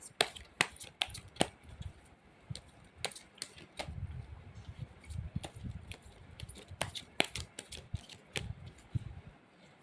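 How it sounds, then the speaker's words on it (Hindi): Tarot cards are drawn from a deck in a series of crisp, close slaps and flicks, spaced irregularly over a soft rustle of handling. "तो चलिए एक दो कार्ड्स लेंगे।"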